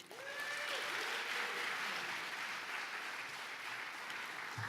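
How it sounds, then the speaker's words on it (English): An audience at the APA Heritage Awards 2019 applauds to welcome San Francisco Mayor London Breed, steady loud clapping that fills nearly five seconds after a brief tonal sound at the start. "let's give a warm round of applause to welcome our Mayor"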